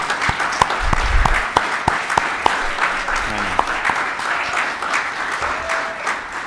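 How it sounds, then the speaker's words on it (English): An audience at a pediatric patient-management conference session applauds the pediatric committee chair, a moderate burst of clapping with scattered sharp individual claps and some voices mixed in. "we owe a round of applause to Molly Oldine as our Pediatric Committee Chair"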